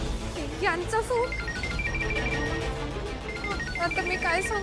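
Electronic telephone ringtone trilling in repeated bursts in a Marathi TV drama household scene, with music and voices talking over it throughout.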